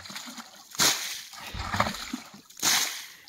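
Water from a natural spring being cleaned out runs and splashes in bursts, with sloshing and dripping between louder splashes, close by outdoors.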